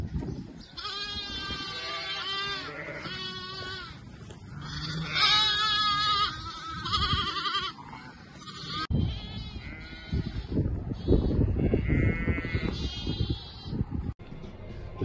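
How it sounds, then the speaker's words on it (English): Ewes and lambs on a farm let out a string of loud, close bleats, the high lamb cries and deeper ewe calls overlapping in uneven bursts, with shuffling and movement between them. "First lot of ewes and lambs going out in the sunshine."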